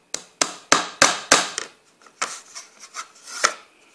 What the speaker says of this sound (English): See, I'm using my little hammer.